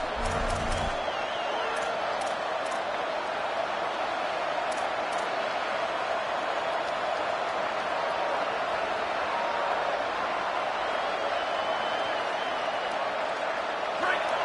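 A steady, dense roar of a large stadium crowd, loud and continuous throughout, with occasional faint tones over the din.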